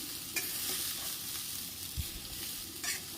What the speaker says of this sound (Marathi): साधारण 2 ते 3 मिनिट ही हळद भाजायची।